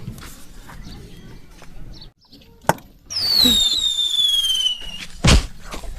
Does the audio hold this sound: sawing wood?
no